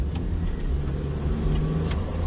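A turbocharged Toyota MR-S engine hums steadily at close range, a low rumbling drone with faint hiss above it and no one speaking.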